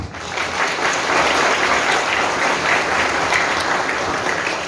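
Sustained applause from an audience after a school theatre drama performance, steady dense clapping filling the room for several seconds, no voices on top.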